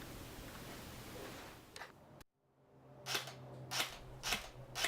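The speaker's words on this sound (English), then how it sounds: "The first weapon I will be using will be a Lancer Tactical M4 LT12 series. This is an electric airsoft rifle with around 400 to 410 FPS." Lancer Tactical M4 LT12 electric airsoft rifle, around 400 FPS, firing at targets: a handful of sharp snapping shots spaced roughly half a second apart after a sudden hush, over steady background noise.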